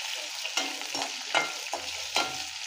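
Chopped chillies roasting in a pan with sesame seeds, sharp bursts of crackle and scraping as they are stirred, repeating every half second or so over a low sizzle.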